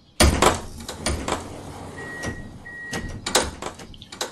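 Train doors in a PS5 train game open with a sharp thud, then sliding clunks and a brief electronic tone, followed by more door knocks, close and fairly loud.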